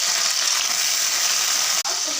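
Sliced potatoes and tomatoes frying in hot oil, a loud continuous close-up sizzle with steady crackle, briefly cut by one sharp interruption near the end.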